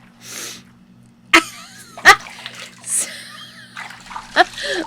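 A person sneezes sharply once, then more short sneezy bursts and breaths follow close up, alongside a steady electrical hum.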